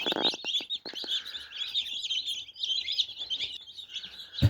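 Many newly hatched chicks in an incubator cheep continuously in high, rapid peeps, a busy overlapping chorus close by with a few soft clicks early on.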